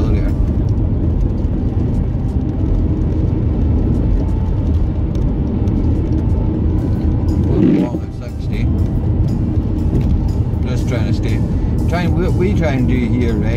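A mapped Audi A4 cruising in top gear gives a constant low engine drone and road rumble inside the cabin, with someone talking over it throughout.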